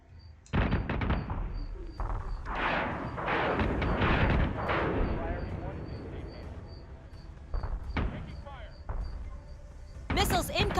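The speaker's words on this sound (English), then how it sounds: "Missiles incoming!" Deep booming blasts and rumbling gunfire roll through a space battle in the Battlestar Galactica Deadlock video game as missiles come in. Loud explosions swell and fade, with a voice speaking over the combat.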